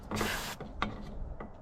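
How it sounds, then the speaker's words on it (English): Brake cleaner hisses from an aerosol can onto greasy engine parts of a 2007 Jeep Liberty, one longer spray burst followed by a few short quiet spurts, close and soft. "I'm going to spray it out with some brake cleaner, clean all this grease and stuff that likely blew out"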